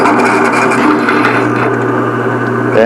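A steady, loud mechanical whine of a drill bit grinding through thick steel, continuous for a few seconds and pitching up briefly at the end.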